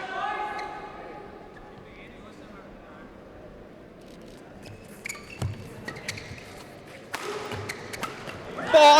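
A badminton smash strikes the shuttlecock during a men's team gold medal match, heard as sharp thuds and taps in a hall under continuous commentary, with louder impacts toward the end.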